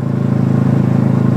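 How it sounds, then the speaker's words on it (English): Motorcycle fitted with an inexpensive DanMoto muffler and baffle idles close by, a steady, even low thumping pulse with no talk over it. "the exhaust is a DanMoto"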